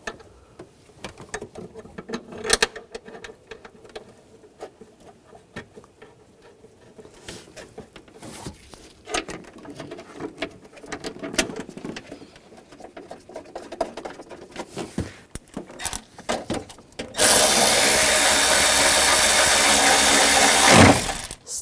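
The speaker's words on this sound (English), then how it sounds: "Just going to go under this wire, get the bolt started." A bolt on the battery bracket of a 2007-2013 BMW X5 being threaded and tightened, with scattered close metallic clicks and handling taps and then a loud, steady power-tool whir near the end.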